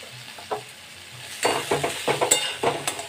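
Crispy masala corn fry being stirred and mixed in a pan with the gas turned off, a spoon scraping and clinking in repeated strokes over a faint lingering sizzle, close and moderately loud.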